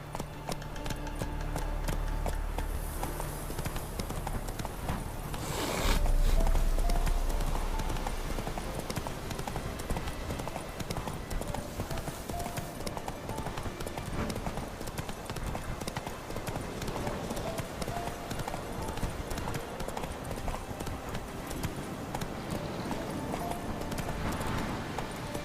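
Hooves of the horse Roach drum in a steady rapid gallop in a video game, a continuous rhythmic clip-clop running throughout at moderate volume over a dense ambient bed.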